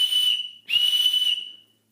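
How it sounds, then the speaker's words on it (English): A small whistle from a compact first aid and survival kit is blown in two shrill, steady blasts, the first short and the second longer, loud and close with no talk. "we've got a whistle. Let's see how it sounds."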